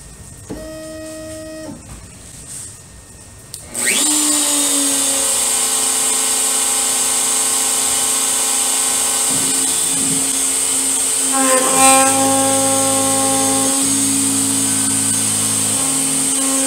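An X-Carve CNC router with a 3/4 inch straight bit flattens an HDPE block: a quiet stepper whine, then the spindle spins up into a loud steady high whine with shifting tones as the bit cuts the plastic.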